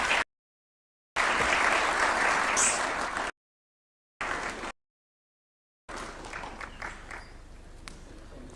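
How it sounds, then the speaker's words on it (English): Audience applause following a speech at a national vision forum, a dense burst of clapping broken by abrupt cuts, then a softer, thinner stretch of clapping. "Another round of applause for Professor Michael Chege."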